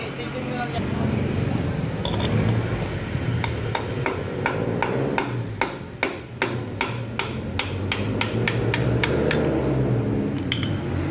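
Regular metallic hammer strikes on a vehicle's axle drive while removing the drive shaft, about twenty sharp clanks in a steady rhythm over a low engine-like hum, with speech in the background.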